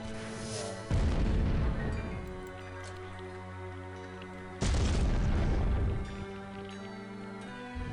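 Bombs exploding in the video game American McGee's Alice: two heavy, booming blasts a few seconds apart, each loud and close, followed by a long rumbling decay, with no talking.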